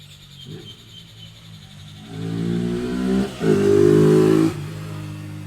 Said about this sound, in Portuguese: sua moto faz bastante barulho nessa cidade silenciosa